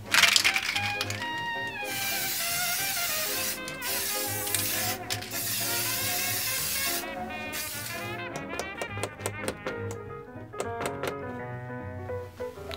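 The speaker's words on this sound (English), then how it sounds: "all I'm going to be using is this yacht spray varnish" Aerosol yacht varnish sprays onto a maple picture frame in several loud hissing bursts, with brief pauses and then a run of short, sharp spurts near the end.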